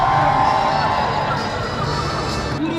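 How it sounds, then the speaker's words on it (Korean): Crowd cheering and shouting at a night rally on Seoul City Hall plaza, a dense, continuous roar of many voices that stays loud for the whole stretch, with no single speaker standing out. "사람들의 환호가 터져 나옵니다."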